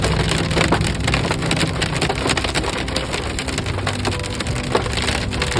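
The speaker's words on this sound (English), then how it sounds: "It's really raining out." Heavy rain falls on a rural property during a storm, pattering steadily and densely on wood and lumber for the whole stretch, loud and close with no talk.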